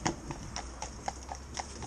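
Cob mare walking with hooves clip-clopping, an even rhythm of light, crisp steps repeating about every quarter second, close and fairly quiet over faint background noise.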